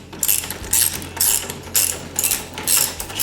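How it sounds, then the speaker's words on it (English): Ratcheting clicks from a 5/8 wrench backing bolts out of a wheelchair wheel hub, in four or five quick bursts of close, crisp clatter with short pauses between. "We're going to remove this with a 5/8 wrench."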